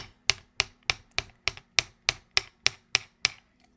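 Eleven sharp metallic taps of a hammer on jewelry wire at an even, unhurried pace, each ringing briefly before the next strike, close and clear.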